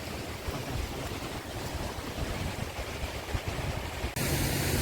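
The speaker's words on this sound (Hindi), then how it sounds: "ना कोई बिजली का बिल ना कुछ बिल, बस पानी से चल रही है" A traditional water-powered gharat flour mill in Nepal runs with a steady, dense rush of flowing water and churning, near and continuous, with no talk.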